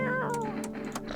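A single cat meows in the video game No, I'm Not A Human, a short, clear rising-and-falling cry heard up close with a few faint clicks around it.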